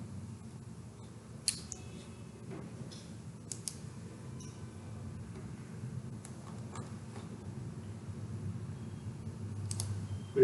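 A computer mouse gives a few sparse, faint clicks, one near the start, one in the middle and one at the end, over a low steady room hum while someone works on a website layout.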